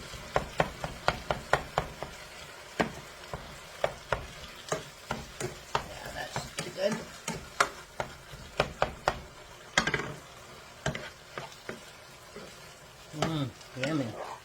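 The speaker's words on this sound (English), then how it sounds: "I'm going to come in and just make sure they're chopped up good" Cooked meat being stirred and chopped in a pan while it sizzles, with a steady run of sharp utensil scrapes and taps against the pan, close and fairly loud, under occasional talk.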